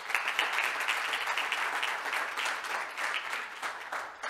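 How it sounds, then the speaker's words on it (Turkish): Audience applause for award jury members at a science awards ceremony, a brisk, even, fairly soft patter of many hands clapping continuously without voices. "Onlara bir alkış alabilirsek."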